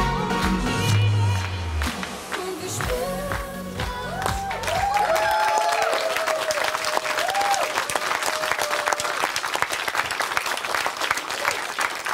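Studio audience applause at an outdoor summer TV garden show, dense steady clapping filling the whole stretch after music fades, with some voices and whistles mixed in.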